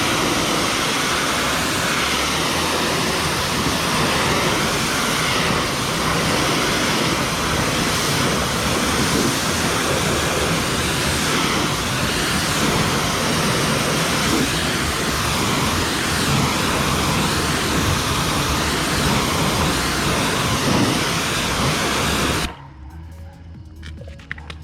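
Water sprays steadily against a car in a steady, dense hiss that runs loud and continuous, then abruptly stops near the end, leaving quiet.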